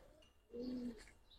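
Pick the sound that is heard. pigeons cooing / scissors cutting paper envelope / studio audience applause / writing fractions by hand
pigeons cooing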